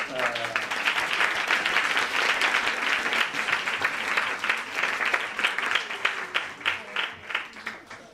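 An audience at a lecture claps in sustained applause that gradually thins into scattered individual claps toward the end, with a voice speaking briefly at the start.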